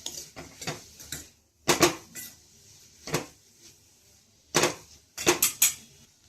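A spoon stirs pumpkin sautéing in ghee in a pan, making close, irregular clinks and scrapes against the metal in short bursts with quiet gaps between them.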